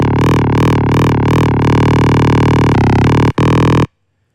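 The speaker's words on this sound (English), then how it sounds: "Crazy, crazy bass line." A synth bass line made from a kick drum sample played through Ableton Simpler: a loud, buzzy bass tone with wobbling pulses at first, then sustained held notes, ending abruptly after a brief cut.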